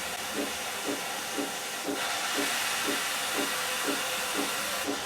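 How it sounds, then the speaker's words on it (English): Steam hisses steadily through a guitar's dovetail neck joint as the neck is steamed loose for removal, a continuous close breathy rush with faint regular ticking pulses underneath. "as soon as I see the steam blowing out this side, that tells me that it's actually going right around the whole dovetail"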